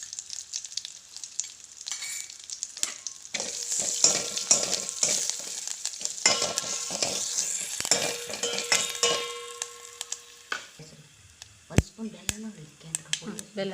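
Turmeric powder drops into hot oil as tempering for tomato saaru, bringing a crackling sizzle with spoon clinks and stirring. People talk over the frying, which fades near the end.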